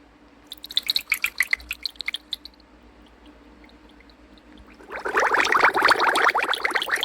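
A few sharp drips and splashes, a quiet pause, then a steady stream of water pours into a container holding salt, loud and close.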